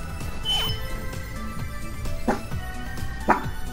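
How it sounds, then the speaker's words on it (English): A dog in Megadimension Neptunia VII yips and barks at a cat sitting in a box, three short sharp barks spaced about a second apart over soft game background music. "You're gonna bark at a cat in the box?"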